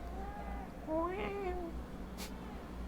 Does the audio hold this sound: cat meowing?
yes